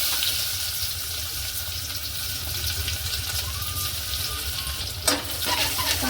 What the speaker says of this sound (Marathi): कडीपत्त्याचा पण मस्त आवाज झाला आता कांदा टाकूया